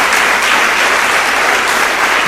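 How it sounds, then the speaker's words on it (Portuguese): A church congregation gives a round of applause in praise, a loud, dense and continuous wash of clapping from many people with no break. "Uma salva de palmas a Jesus."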